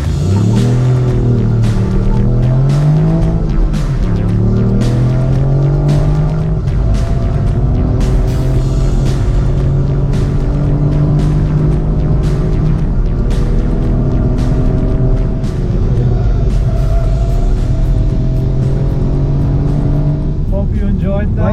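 A Ford Puma ST is driven hard around a race track, with a loud, close engine rising and falling in pitch through gears and corners for a sustained stretch, heard from inside the car with occasional talk beneath.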